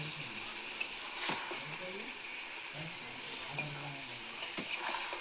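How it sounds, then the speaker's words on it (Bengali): Meat sizzles in a pan while salt is stirred through it for an Eid meal, a steady frying hiss broken by clinking, scraping spoon strokes against the pan, heard close. "গোষ্ঠটা নাড়া করে নুন দিয়ে দেবে"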